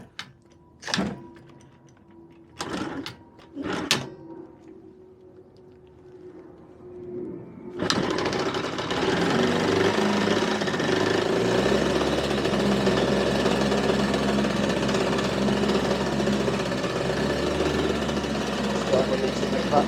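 An old engine with the choke on is cranked over a few times in short bursts, then catches at once and runs steadily and loudly, idling close by; a voice talks during the first attempts.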